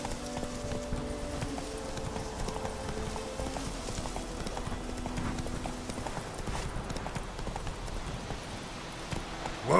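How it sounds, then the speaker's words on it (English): Horse hooves clip-clop at a steady walking rhythm in The Witcher 3, close and continuous over a low ambient bed, with a brief louder burst at the end. "Whoa there, Roach."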